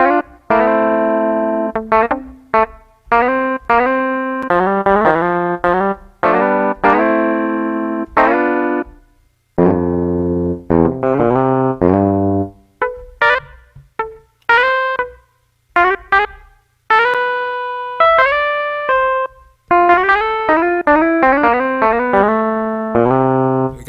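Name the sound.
electric guitar with effects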